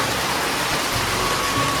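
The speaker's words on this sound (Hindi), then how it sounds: "इतना पानी गिरा सुबह से।" Heavy rain pours down steadily after a long morning downpour, a dense, even hiss of drops drumming on surfaces close by, filling the whole moment with no voices.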